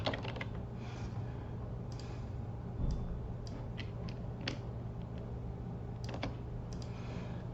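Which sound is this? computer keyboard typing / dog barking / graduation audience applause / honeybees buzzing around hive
computer keyboard typing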